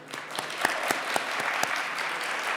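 An audience at a winter athletics awards night applauds a Most Improved Award winner, a steady wash of clapping from a modest crowd with a few sharper nearby claps standing out.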